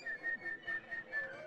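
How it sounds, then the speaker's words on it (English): A Strecker's chorus frog gives a quick series of about six high, whistle-like peeps at a steady rhythm, faint and slightly distant against a quiet background. "this is a Strecker's chorus frog. This one, it's a high frequency little peep, like a high frequency whistle"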